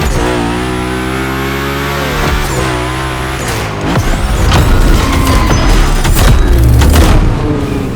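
Hoonicorn Mustang V8 in The Crew Motorfest, a fire-spitting monster, revving hard with rising engine pitch, then tire squeal and skidding as it drifts, loud and close with no talking.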